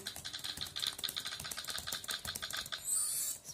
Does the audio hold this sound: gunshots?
no